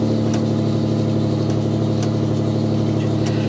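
A Mitsubishi Diamante engine idles steadily just after being started for the first time in a long while, a loud, even low hum with a faint periodic tick, close by and without talk.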